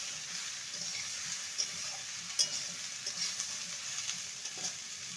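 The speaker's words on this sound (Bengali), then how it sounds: "এবারে কেটে রাখা লাউ দিয়ে দেবো। ভালো করে নেড়ে নেব।" Chopped bottle gourd frying with ginger in a pan, a soft steady sizzle with a few light spatula knocks and stirs, quiet and close, no talking.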